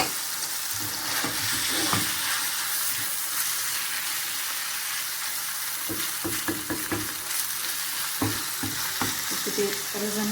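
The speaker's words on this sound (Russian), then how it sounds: "И теперь разомнем хорошенечко фарш. И минут 10 потушим его вот так вот." Minced meat stews and sizzles in a pan while a utensil scrapes and mashes it, giving a steady close frying hiss broken by irregular clicking stirs.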